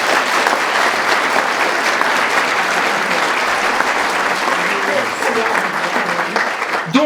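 A seated audience at a religious talk on the heart of Mary claps steadily, a dense, loud wash of applause that holds for several seconds and barely fades.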